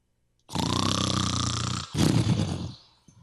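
A voice imitates a loud, raspy snore: one long rattling inhale followed by a shorter, rougher snort, up close.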